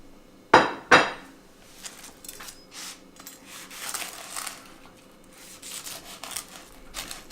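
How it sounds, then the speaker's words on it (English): A knife cutting fried eggs into bite-sized pieces on a plate or board opens with two sharp, loud clinks, then a run of softer scraping and tapping cuts that carries on quietly, close by with no talking. "We're going to cut them into bite-sized pieces."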